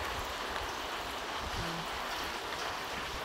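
Floodwater runs past the front of a house after heavy rain, a steady, soft rushing wash that stays even and fairly faint for the whole moment, with no voices.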